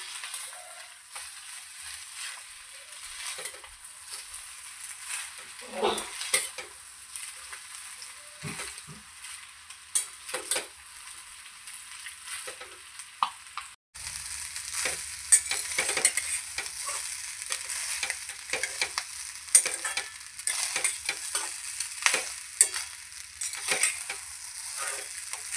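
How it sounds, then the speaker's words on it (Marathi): Chicken fried rice being stir-fried with soy sauce in a hot pan, a steady sizzle broken by repeated scraping and tossing strokes, louder and busier in the second half, with no talking. "आता आपण आहे ना हे सर्व मिक्स करून घेऊया."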